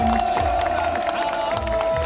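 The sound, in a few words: crowd applause and cheering at campaign rally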